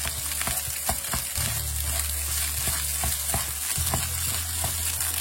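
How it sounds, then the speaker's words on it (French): Rice and eggs stir-fry in a hot wok for Chinese Yangzhou-style fried rice, a constant close sizzle broken by light scraping and tossing knocks, with no one speaking. "Vous pouvez voir, au bout d'un moment, les riz commencent à sauter dans le wok"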